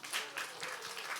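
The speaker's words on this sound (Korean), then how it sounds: "박수 한번 해주세요." Church congregation applauding together, a steady wash of clapping hands that stays fairly even and moderately loud from start to finish, with no talking over it.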